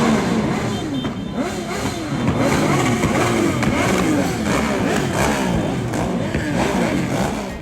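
A group of motorcycles rides together in a procession for a charity run, engines revving and droning continuously at close range, with several overlapping passes and faint voices mixed in.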